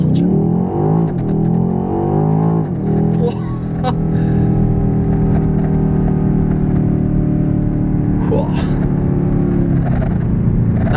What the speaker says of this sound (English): you just press your stability control off, just kick the brake, push the throttle, and then it launches